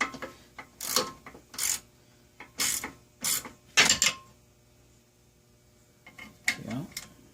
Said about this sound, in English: we'll get them tightened up with the 8mm socket